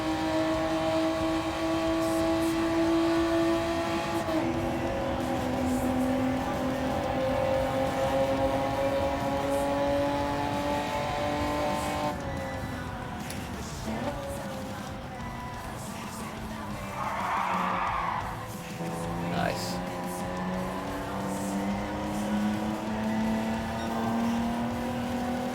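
Racing cars in Gran Turismo 7 on PS5, engines droning steadily with shifting pitch as gears change, plus a brief tire squeal mid-race, loud and continuous throughout.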